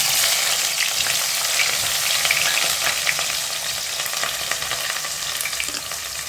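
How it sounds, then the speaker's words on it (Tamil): Onions sizzling and frying in a hot pan for a tamarind curry, a loud, dense crackle with constant stirring, close up and with no talking. "இப்போ வெங்காயத்தை சேர்த்து நல்லா வதக்கி விட்டுக்கலாம்"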